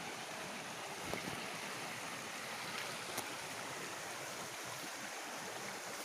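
A river flows beside a village path near cornfields at the foot of Mount Salak, giving a steady, close rushing wash of water that stays even throughout with no voices.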